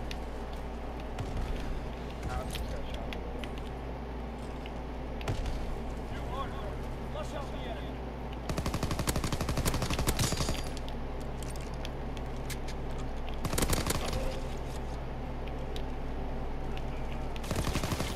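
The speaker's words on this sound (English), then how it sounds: "I'm getting shot through a wall right now." Gunfire rattles in a World War II shooter ranked hardpoint match, with dense bursts of shots and impacts layered over a steady game background, growing louder in stretches partway through.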